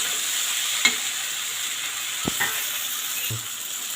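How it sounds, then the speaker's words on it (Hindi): Vegetable masala for poha is stirred in a hot pan: a few spaced spoon scrapes and clinks cut through a constant, even sizzle, up close and with no talking. "इसको अच्छे से मिक्स कर देते हैं।"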